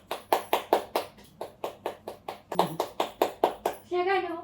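A child's hands clap about fourteen times in a steady, even rhythm, close and fairly loud, during a family Valentine's Day celebration at home, followed by a short burst of a child's vocalizing at the end.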